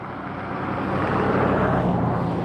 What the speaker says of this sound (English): WestJet to Calgary is taxiing right now